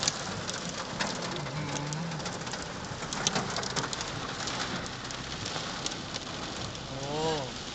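Heavy rain with hail pelting down during a storm in Chiang Rai, Thailand, a steady dense hiss throughout, with birds cooing and calling faintly in the mix and a brief voice near the end.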